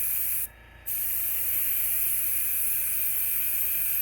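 An airbrush compressor gives off a steady, soft hiss of spraying air that cuts out for a moment early on, then resumes evenly.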